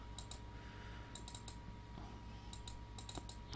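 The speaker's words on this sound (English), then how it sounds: "So if we click here" Computer mouse clicking while navigating a launcher app, sharp light clicks in small clusters, some doubled, over a faint steady hum.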